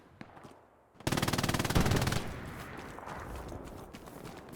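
A rapid burst of machine gun fire rattles out loud and close for about a second, then gives way to a lingering rumble and scattered noise in a wheat field near a hedge.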